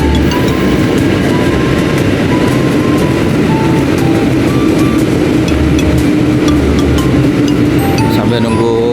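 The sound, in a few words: train at Bekasi station, waiting for Argo Parahyangan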